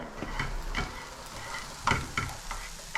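Kielbasa sausage, hash and fried eggs sizzling in a pan, with a constant hiss broken by several sharp stirring scrapes and pops at irregular intervals, close and moderately loud.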